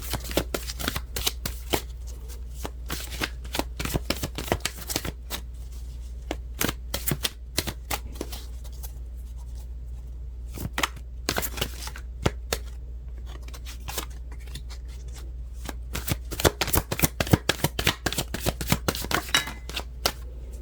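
Tarot cards being shuffled in repeated quick riffling bursts, crisp and close, continuing for about twenty seconds with no speech.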